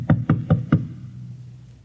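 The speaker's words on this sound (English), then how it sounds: "And then there was a knock on the door." Four sharp knocks on a door, evenly spaced and close, quick raps in a row followed by a fading quiet tail, with no voices.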